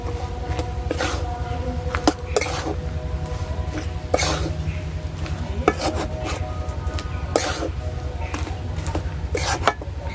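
Peanuts being stirred into cooked jaggery in a pan for a peanut brittle, with a spoon scraping and knocking against the metal in irregular clinks over a low steady background hum.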